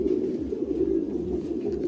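Thai Titan pigeons coo in a low, throaty, rolling murmur that continues steadily and close up with little else around them.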